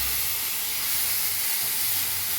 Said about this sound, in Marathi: टमाटो भाजून घेऊया